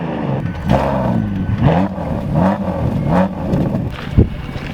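A Bentley Bentayga with an Akrapovic exhaust revs repeatedly up close, its deep engine note rising and falling in several short pulls, with a sharp mechanical clack near the end.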